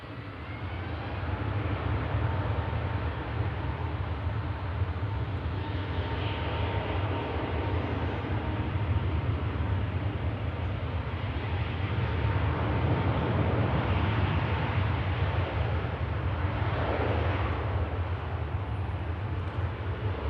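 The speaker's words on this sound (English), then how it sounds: "Now taking off on runway 23 left, the Emirates A380, heading back to Dubai" An Emirates Airbus A380 takes off from runway 23 left at Manchester Airport, bound for Dubai; a steady, powerful jet engine roar with deep low rumble holds throughout at moderate distance, with no voices.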